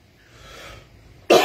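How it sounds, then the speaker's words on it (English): A single short, loud cough bursts out at the end after a stretch of near-quiet room tone. "Oh, I still got that cough."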